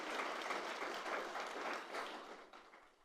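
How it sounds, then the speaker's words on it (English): An audience at a food event applauds its AV team: a continuous wash of clapping from a sizable crowd, fairly distant and even, easing off toward the end. "Applause for them, please"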